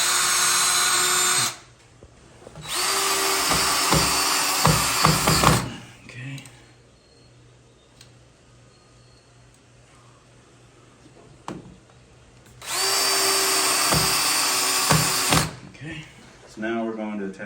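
Power drill sinking screw holes while fitting a swinging screen door: two loud, close bursts of high whirring spin a few seconds long, separated by a quieter stretch of handling noises and talk.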